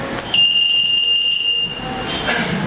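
An alarm goes off indoors during a lecture, a single steady high-pitched electronic tone that holds for over a second before cutting out, over a faint background hum with no talking.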